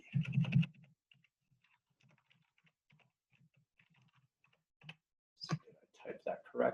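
Computer keyboard keys tapped in a quick, light run of clicks that fade to sparse taps, with someone speaking briefly at the start and again near the end.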